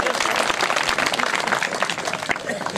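A crowd claps together in a loud, dense burst of applause that keeps going throughout, with voices mixed in underneath.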